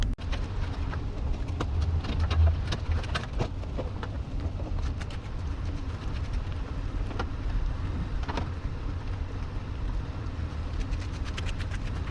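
Steady pouring rain falls outdoors during a snowstorm, giving a constant hiss with scattered sharper drips and taps throughout, moderately loud and with no talking.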